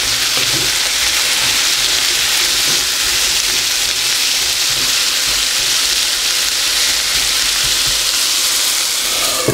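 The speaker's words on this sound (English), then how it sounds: "now that we've given them a nice stir" Potatoes frying with onions and red peppers give a loud, continuous sizzle close up, with faint scraping as the pan is stirred throughout.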